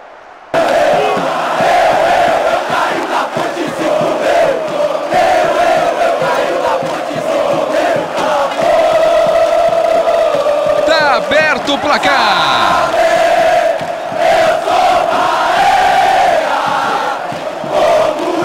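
Stadium crowd cheering after a goal in the PES 2010 football video game, Bahia versus Internacional: a loud, sustained roar of chanting fans filling the whole stretch, with a commentator talking over it.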